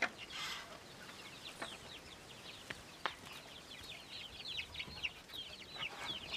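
Chickens on a Ugandan farm cluck and chirp in quick, repeated bursts, faint and somewhat distant, with a few soft knocks in the background and no talking.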